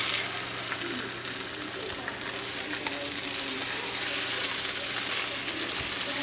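Scrambled eggs cook with leftover baked potatoes and melted cheese in a pan, a steady close sizzle and crackle with occasional scraping as the mixture is stirred.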